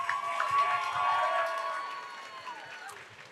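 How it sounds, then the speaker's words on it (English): Crowd applause and cheering break out at a live fight event after a hard-fought bout, a dense wash of clapping that swells early, then gradually thins and fades, with voices mixed in. "Ladies and gentlemen, give them a round of applause"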